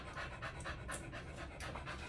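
A Boykin spaniel pants close by in rapid, even breaths, soft and steady, with no voices over it.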